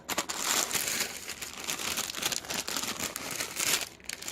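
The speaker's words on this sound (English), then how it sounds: "you're gonna want to open up your ramen noodles" Plastic ramen noodle packet being torn open, a close, continuous crinkling and crackling of wrapper material for several seconds with no talk.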